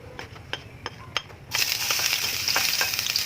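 Garlic dropped into hot cooking oil gives a sudden, loud, steady sizzle that carries to the end, after a few soft clicks from the pan.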